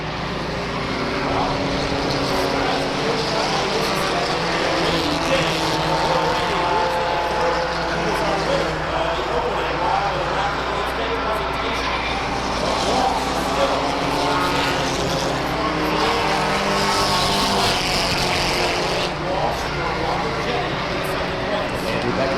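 Stock cars racing at Waterford Speedbowl in a Saturday night feature, engines droning and roaring continuously at steady loudness as the field circles the track, with an announcer's commentary running over them.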